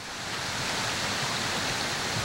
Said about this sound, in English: Dalton, there's a creek running behind us!